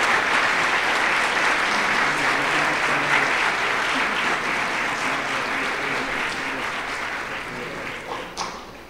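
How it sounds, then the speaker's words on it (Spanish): Sustained audience applause at the closing ceremony of a forensic sciences congress, dense and steady across the whole span before thinning slightly near the end, with a few voices faintly mixed in. "un aplauso a los exponentes que vienen a darnos todo."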